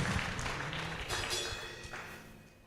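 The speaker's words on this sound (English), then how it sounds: "Let's clap for him, please." Faint audience applause at a training programme launch event, a soft patter of clapping that gradually thins out.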